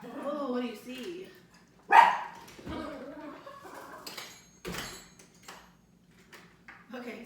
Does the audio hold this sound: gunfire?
no